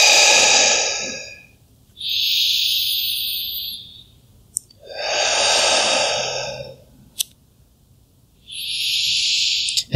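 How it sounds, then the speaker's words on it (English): Deep, slow breaths during a yoga upper back mobility stretch: several long, close, airy inhale and exhale cycles separated by short pauses, with no talking. "3 big breaths"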